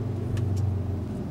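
Cupra Formentor VZ car accelerating, a steady close engine hum and road rumble holding level throughout, with no talk over it.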